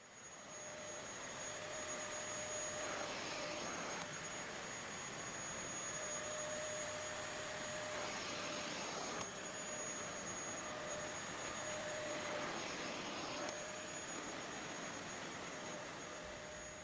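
A Kenwood Xtreme Cyclone vacuum cleaner runs steadily on carpet, a loud, continuous whine and airy roar with a thin high tone, holding level throughout.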